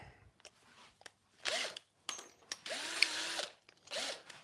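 A drill bores through wood while building stairs with a Festool Domino 700XL setup, sounding in several separate bursts of rising and falling motor whine with short quiet gaps between them, fairly close.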